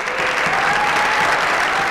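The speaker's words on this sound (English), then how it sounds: "Let's give them one round of applause." Dense, even applause from a crowd at a recognition ceremony honoring Vermont Presidential Scholars, loud and sustained with no pauses, with only a faint hint of voices beneath it.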